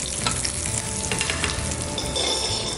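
Garlic-infused brown butter sizzles and spits steadily over a rack of lamb, a close, continuous crackling fry with no talking.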